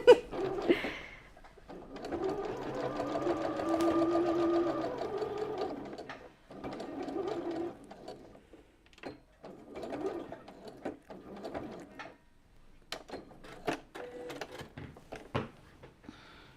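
A sewing machine stitching a shirt runs in short bursts of fast rhythmic whirring, close and moderately loud, separated by pauses and small mechanical clicks.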